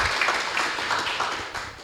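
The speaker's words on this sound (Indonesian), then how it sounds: "Tepuk tangan untuk kita semua." Audience applause at a televised music show in Palembang, a steady, moderately loud patter of many hands clapping together, sustained throughout with slight swells.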